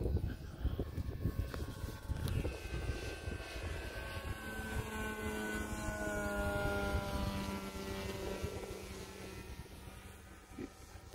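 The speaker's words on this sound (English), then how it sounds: "We're landing with that big biplane." A large electric Stearman biplane model flies near a runway, its motor whine drifting in a smooth rising and falling tone, fairly faint against outdoor wind noise.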